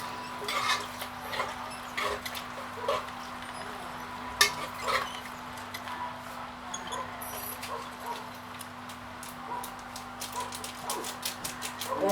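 A spoon stirs boiled food and saltfish in a pot, giving irregular scraping clinks against the metal with a faint steady hum behind, no talking.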